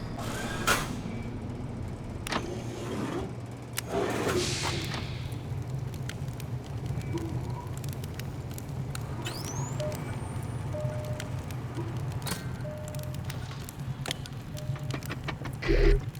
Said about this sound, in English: Ah, the purring of a combination lock mechanism. Unmistakable.